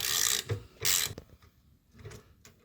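A hex bit turns out the fork bolt on a 1984 Honda XR250 motorcycle, giving close, loud ratcheting clicks in two bursts, then quieter mechanical ticks.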